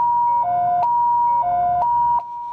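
Two-tone ambulance siren alternating steadily in a repeating hi-lo pattern, loud and close, over low traffic rumble, from a fire department ambulance driven off in Kaohsiung.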